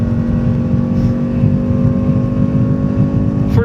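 A Mazda MX-5 race car's engine drones loud and steady at high revs on track at Phillip Island, heard from inside the cabin, with a brief change in pitch as the gear shifts near the end.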